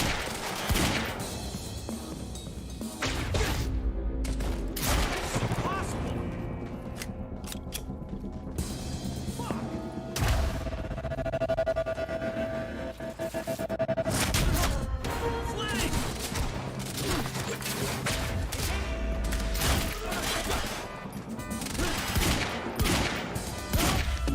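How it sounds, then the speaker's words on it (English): Gunfire bursts in the Quantum Break video game, with repeated loud shots and mechanical clatter over a dense, constant game soundtrack, mixed with shouting voices. "He's got a gun! Open fire!"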